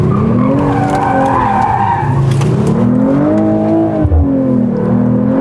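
Tires of a 2025 Mercedes-AMG CLE53 squeal loudly in drift mode during a U-turn, a sustained wavering screech rising and falling over engine revving, close and continuous with no speech.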